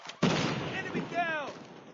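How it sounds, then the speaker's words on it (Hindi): A grenade blast in Call of Duty lands as one sudden broadband boom, followed by a long rumbling decay with gunfire-like crackle. A voice talks faintly over the tail. "grenade out"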